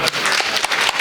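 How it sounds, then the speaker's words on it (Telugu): Audience applause at a Telugu theatre day award ceremony as honourees are introduced, a brief dense patter of clapping with a few sharper claps standing out. "చప్పట్లు."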